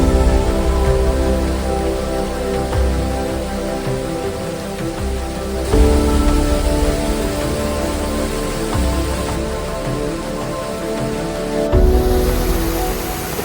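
A dense, steady roar of rushing water fills the whole clip, loud and continuous, from Lapas Waterfall in Barot Valley, Himachal Pradesh, close by with no voices.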